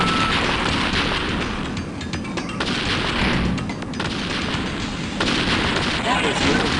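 Rapid bursts of gunfire and heavy explosive blasts from the video game Shockwave 2: Beyond the Gate, loud and continuous across the whole stretch with a dense, rumbling roar.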